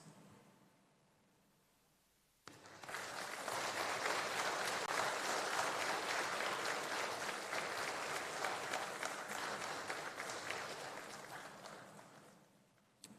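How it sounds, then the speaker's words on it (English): Graduates at a university convocation break into a sustained, dense round of applause from a large hall crowd, rising abruptly from quiet and holding for about ten seconds before tapering off. "give a good round of applause to appreciate their unwavering support and sacrifices"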